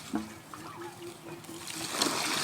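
Water pours and trickles out of a giant tube-shaped eel trap, with a steady splashing flow that swells toward the end, while faint voices and tonal sounds sit beneath it.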